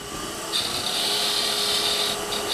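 A Hunter Hercules lathe tool takes a scraping cut on spinning wood, making a steady whirring rasp with a brighter high scrape that comes in after half a second and holds, with no talking.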